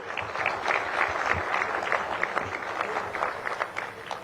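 Audience applause at the Uganda–South Africa Trade and Investment Summit honoring sponsor MTN Group, a short burst of dense, moderately loud clapping from a seated crowd, fairly steady throughout.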